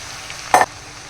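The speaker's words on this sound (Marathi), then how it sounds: "इथे आपण जो राईस शिजवून घेतलेला होता तो इथे आता टाकून घेऊया" Cooked rice drops into a hot pan of vegetables for veg fried rice, giving one brief close sizzling burst over a steady low frying hiss.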